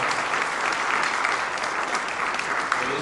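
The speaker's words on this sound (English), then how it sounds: "Let's give one more round of applause to our passionate candidates for the city of Elk Grove." Steady audience applause at an Elk Grove mayoral debate for the candidates, a dense, even wash of many hands clapping at moderate distance, continuous throughout without a break.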